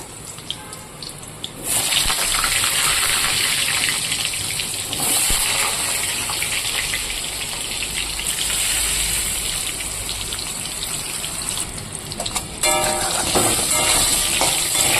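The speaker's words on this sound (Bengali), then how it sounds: "কড়াইতে দিয়ে দিয়েছি তেল এবার আমি এই তেলে ভেজে নেব আলু" Potatoes fry in hot oil in a wok with whole garam masala, a loud, continuous rushing sizzle that swells after a quieter start and holds steady throughout.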